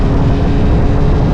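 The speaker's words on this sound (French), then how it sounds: "Du coup aujourd'hui on part sur un petit essai de cette 703 RR qui est donc une moto sportive." A Zontes 703 RR sport motorcycle being ridden gives a loud, steady roar of engine and rushing wind that fills the whole moment without a break.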